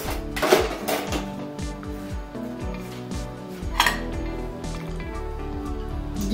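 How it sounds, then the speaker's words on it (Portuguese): Metal cutlery clattering and clinking in a kitchen drawer or pot while someone rummages for a fork, with loud bright jangles early and midway and steady lighter rattling throughout, no talk. "Deixa eu achar um garfinho"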